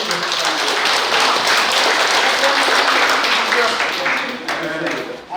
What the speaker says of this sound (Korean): 크게 한번 박수 한번 쳐주십시오.